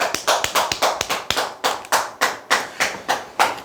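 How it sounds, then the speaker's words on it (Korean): Rhythmic clapping from a small audience at a lecture on sales, sharp, evenly spaced claps in a steady beat, loud and close with no talking. "박수 한번 치시죠."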